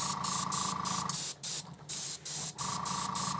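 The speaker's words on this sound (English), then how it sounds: "I have some Tamiya silver paint loaded up in the airbrush here" Airbrush loaded with Tamiya silver paint, used to dust a repainted toy Ghostbusters proton pack prop: a loud, steady hissing spray in several bursts, broken by short pauses where the trigger is released.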